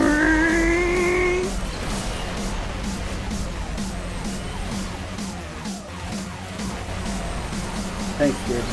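A sports car's engine roars steadily in the racing game Asphalt Xtreme, with a short tonal blast at the start and a dense rumble of driving noise throughout.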